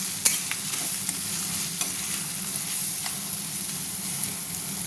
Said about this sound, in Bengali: দিয়ে মশলাটা আবার নেড়ে নিচ্ছি